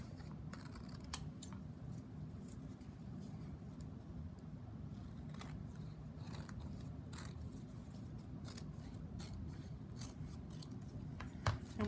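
Scissors snipping ribbon for a ribbon-work bookmark, several close, crisp cuts over a steady low background hum, with no one talking.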